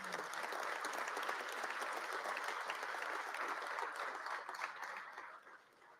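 Sustained applause from a joint session of a state legislature, dense and steady for most of the span before tapering off near the end, with no talk over it.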